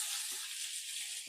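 Cashews and tomato frying in a pan for a creamy malai kofta gravy, giving a steady, continuous hiss of sizzling oil with a couple of faint stirring scrapes and no voices.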